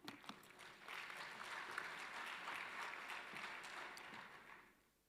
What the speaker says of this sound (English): Another big round of applause for